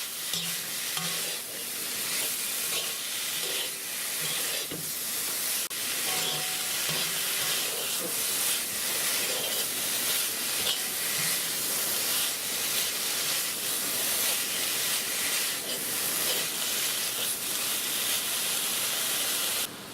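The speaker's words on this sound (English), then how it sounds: "Give it all a good stir." Onion and carrots for ham fried rice sizzle loudly in a hot pan, with a dense continuous hiss and repeated close stirring scrapes throughout.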